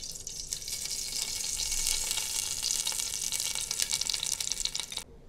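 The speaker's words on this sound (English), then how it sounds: "On a hot pan, go ahead and add 1/4 cup of olive oil." A quarter cup of olive oil heats in a hot pan, giving a steady, bright hiss of sizzling that holds for about five seconds and then cuts off.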